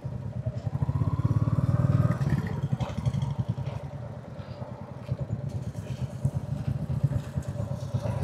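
Royal Enfield motorcycles at a club meetup putter and thump nearby, engines idling with a fast, rhythmic chug, briefly louder early on, with a short rev.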